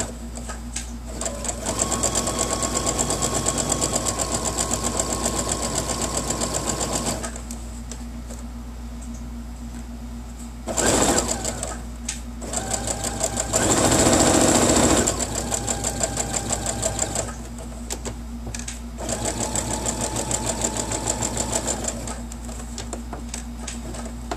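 Domestic sewing machine stitching fabric for small Easter-themed bunny-ear pieces, running in several steady bursts of rapid mechanical stitching with brief pauses and a louder stretch near the middle, close and clear, with no talk.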